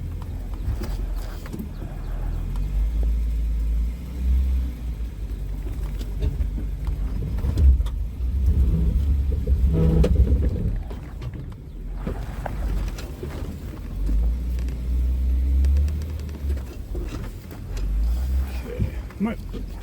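A Jeep grinds along an eroded off-road trail at an off-road park, its engine a steady low rumble with bumps and clunks from the rough ground, close and continuous under some background talk.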